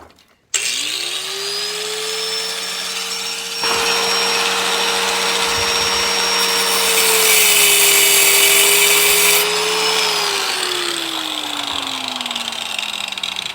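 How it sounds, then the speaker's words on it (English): A handheld grinder with a cutoff wheel whines at a high, steady pitch and grows harsher as it bites into a Nissan Titan rear axle part, loud and close, then winds down. "So I'm going to try to cut it with the grinder here."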